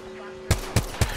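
Three evenly spaced, loud, punchy gunshots ring out in quick succession in Apex Legends, following a short stretch of quiet game ambience with a faint steady tone.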